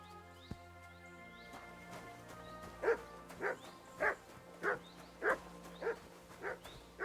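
A dog barks about eight times in a steady rhythm in a Kingdom Come Deliverance 2 game scene, the sharp mid-distance yaps clear over a quiet ambient bed with no talking.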